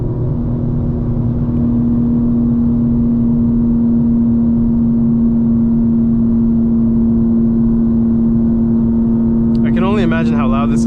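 A 900 hp 2025 BMW M4 Competition xDrive drones loudly from inside the cabin at night, a steady held engine tone at constant speed, with a brief burst of talk near the end.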